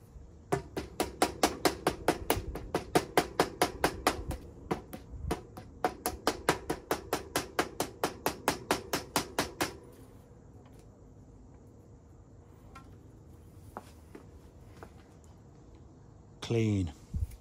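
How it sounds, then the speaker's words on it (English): Someone hammers out a built-in end cap from the handlebar of a Raleigh Dyna-Tech bicycle, making a fast, steady run of sharp metallic strikes close by. The strikes pause briefly partway through, then stop, leaving quiet room noise and one final clatter. "you need to hammer out this built-in end cap"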